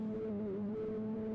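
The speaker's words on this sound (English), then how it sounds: "Why would you make a motorbike sound this" Motorbike engine in the video game BABBDI, a steady low droning hum with a slight wavering pitch, continuous and fairly quiet throughout.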